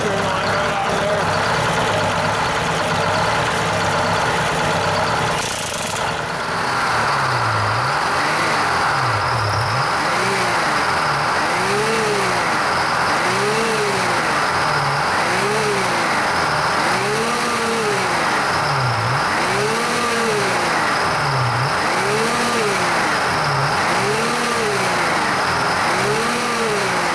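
An old vehicle engine, sitting more than 30 years, running loudly after starting and revving up and down repeatedly in a steady rising-and-falling cycle, close and continuous throughout.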